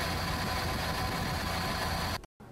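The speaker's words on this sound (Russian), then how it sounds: "Потом на несколько минут запускаем двигатель" A car engine idles during a heater radiator flush, a steady, dense rumble, close by and constant, cutting out briefly near the end.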